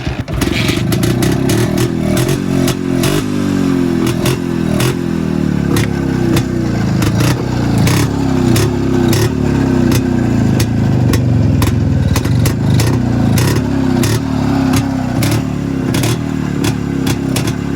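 A vintage motorcycle engine is kick-started and runs steadily, a loud, close, rhythmic thumping idle with clattering mechanical noise throughout.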